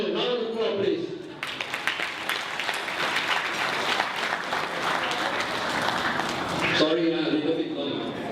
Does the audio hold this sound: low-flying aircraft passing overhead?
no